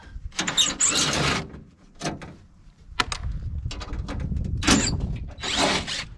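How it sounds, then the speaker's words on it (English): A power drill whirs in several short bursts, separated by clunks and handling noises, while removing the armrest brace from a diesel dually truck door. "Let's see if we can get those out with a power tool."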